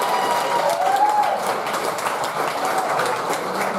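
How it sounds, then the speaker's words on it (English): Audience applause and cheering at a stand-up comedy show, a steady crowd clapping that swells slightly and then holds at a moderate level from the room. "Go ahead, clap it up."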